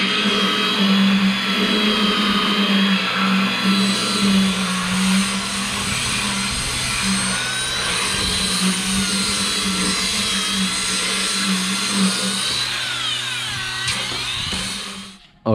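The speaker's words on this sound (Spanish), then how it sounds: "Ahí Héctor está lijando lo que es la soldadura" A power sander grinds steadily over steel welds on a metal pergola frame, a loud continuous whine with shifting pitch as the disc works the metal, winding down abruptly at the end.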